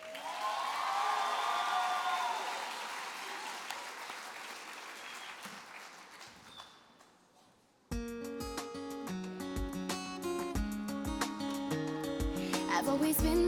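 Audience applause rings out at a state FFA convention, loud and sustained for about seven seconds before fading, then cut off abruptly as band music begins.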